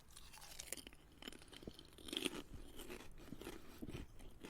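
Skips prawn cocktail flavour crisps crunched in the mouth, close and fairly quiet, with a series of irregular crisp bites and chewing crackles spread throughout and no talking.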